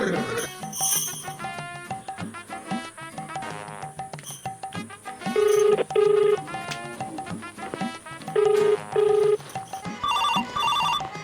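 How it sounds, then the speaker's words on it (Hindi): A telephone rings with a melodic electronic ringtone, repeating tonal bursts in a steady pattern over background music in a comedy sketch, fairly loud and close. "ये फोन आता है रे"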